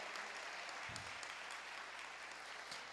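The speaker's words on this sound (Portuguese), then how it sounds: "aplauda ao Senhor." Church congregation applauding together, a steady wash of clapping filling the space from start to finish, with a low hum of voices underneath.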